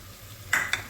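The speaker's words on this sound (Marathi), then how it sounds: "आता आपण टोमॅटो पण घालून घेऊया" Tomatoes hit a hot pan for soya chunk dal khichdi, giving two short, sharp bursts of sizzling close by after a quiet start.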